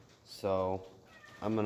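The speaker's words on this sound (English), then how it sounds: "Sorry if you can hear the cat in the background meowing and the rain" A cat meows twice in a machine shed, each a clear, drawn-out call, with someone speaking briefly between them.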